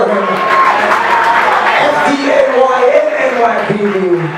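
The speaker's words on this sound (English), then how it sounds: "Ladies and gentlemen, big round of applause for that." Party guests at a sweet sixteen celebration cheer and clap in a loud, continuous crowd roar, with shouted voices and excited chatter throughout.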